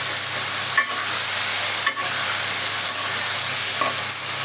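Cauliflower stir-frying in a cooked spice paste, a loud continuous sizzle with a few spatula scrapes and stirs spaced about a second apart, no voices.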